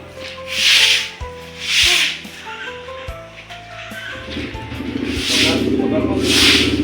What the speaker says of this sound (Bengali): বোন এখনও ঝাঁট দিচ্ছে জলটা সরাচ্ছে